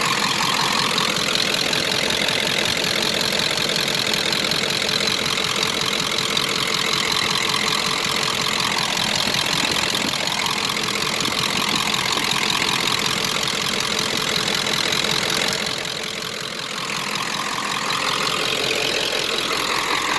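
A 1995 Ford F250 with the 7.3 Powerstroke diesel idles steadily during a blow-by check, a loud, even diesel clatter and rumble running unbroken for the whole stretch, dipping only slightly near the end, with no talking.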